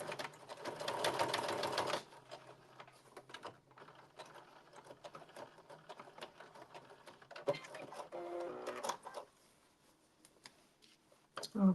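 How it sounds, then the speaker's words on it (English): Sewing machine back-stitching blazer fabric, a dense rapid burst of stitching at the start, then quieter handling and intermittent short runs of the needle. "You can always back stitch to and force it back."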